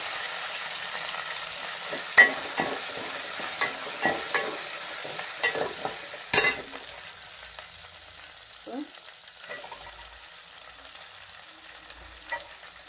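Onions with ginger-garlic paste, curry leaves and green chillies sautéing in a pan for poori potato masala, a soft steady sizzle broken by scattered scrapes and taps of a stirring spoon, close and with no talk.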